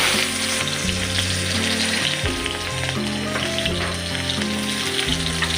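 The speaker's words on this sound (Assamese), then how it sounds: "পিঁয়াজ ফেলাই দিছোঁ।" Onions hit hot oil in a wok and fry with a loud, close, continuous sizzle and crackle that stays strong throughout.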